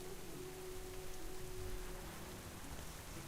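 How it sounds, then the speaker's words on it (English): Rain falls steadily in the World of Warcraft Classic game world, a soft, even hiss of rainfall with a faint low hum underneath and no voices. "Listen to that ambience with the rain."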